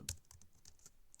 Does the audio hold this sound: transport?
no